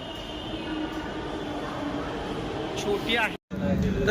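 A Pune metro train rumbles steadily into the station, with a rising electric whine and a brief cutout near the end; voices murmur faintly underneath.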